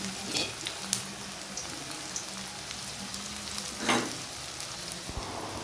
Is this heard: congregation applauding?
no